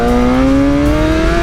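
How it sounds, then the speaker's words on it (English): A Suzuki GSX-R750 motorcycle engine revs up in a loud, steady rising whine as the rear tire spins on slippery ground, close and continuous for a brief moment. "Like I'll just spin back tire here."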